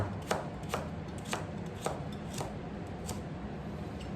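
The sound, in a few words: knife cutting vegetables for miso soup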